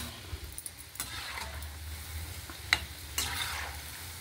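Food frying in a pan at home, a steady low sizzle with occasional clinks and scrapes of a utensil, no voices.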